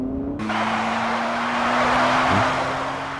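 Loud, sustained tire screech from a car chase on a Tokyo highway in the Yakuza video game, a long continuous squeal with engine roar underneath, swelling slightly midway and carrying on without speech.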